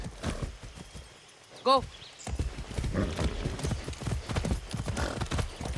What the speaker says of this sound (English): I haven't ridden a horse since basic training.